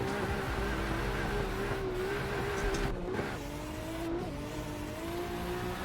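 Nissan S14 drift car in the Assetto Corsa video game, its engine revving hard and steady with tire squeal and skidding layered over a continuous loud drone, no talking.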